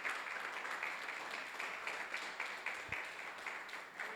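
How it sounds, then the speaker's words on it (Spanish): A church congregation claps together in a Honduran service, a fairly faint, even wash of hands clapping at some distance, with a single low thump partway through. "Póngase en pie y déle una ofrenda de aplausos, amado."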